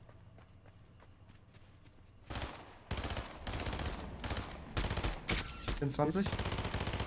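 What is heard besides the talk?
gunfire in the video game Fortnite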